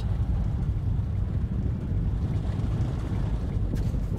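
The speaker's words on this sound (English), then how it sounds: "Is that a helicopter?" A helicopter approaches in the video game Metro 2033 Redux, a steady low rumbling drone that fills the whole stretch at even loudness, like a distant rotor growing near, with no voices over it.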